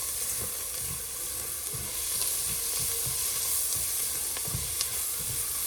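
Onions cooking in a pot for homemade potato soup give a soft, steady sizzling hiss with faint periodic low thumps of stirring, fairly quiet and without speech.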